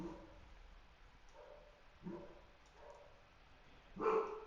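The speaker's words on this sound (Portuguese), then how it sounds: "é difícil gravar com cachorro em casa" A dog barks inside a house: a few short, faint barks spaced apart, then a louder burst near the end, with no talking.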